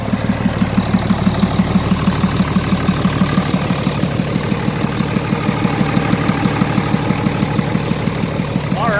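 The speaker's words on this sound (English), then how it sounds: "how you swap an engine in an M35A2 by yourself and have it fire up on the first try" A freshly swapped engine in an M35A2 military truck runs steadily after firing up, a loud, even low mechanical throb with a rhythmic knock, continuous and close throughout.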